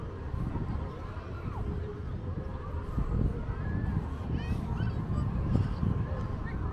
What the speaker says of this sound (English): A few seagulls about.